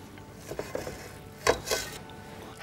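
Spoon or utensil clinks against a bowl while a lamb-leg stuffing is stirred, giving a few soft, irregular scrapes and taps, slightly louder around the middle.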